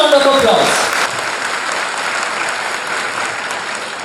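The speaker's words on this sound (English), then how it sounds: "all these three toppers deserve a huge round of applause." A school prize ceremony audience applauds the HSC toppers of 2022-23 with steady, dense clapping that stays loud throughout, starting under brief speech and then continuing alone.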